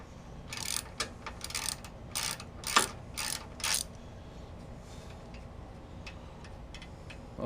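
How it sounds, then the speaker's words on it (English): Torx head wrench undoing Torx bolts on the front of a Polaris 570 UTV, giving a run of close, fairly loud ratcheting clicks in short bursts over the first four seconds, then fainter scattered ticks. "we'll take our Torx head wrench and undo our Torx bolts here on the front of our"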